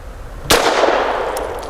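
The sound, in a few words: Grand Power LP380 pistol shots hitting steel targets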